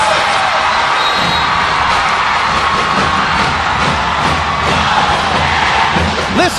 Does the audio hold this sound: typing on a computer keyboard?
no